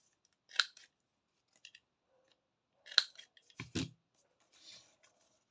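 Small scissors snipping the corners of paper for a mini flipbook craft, a handful of quiet, crisp cuts in short clusters separated by near silence, close up.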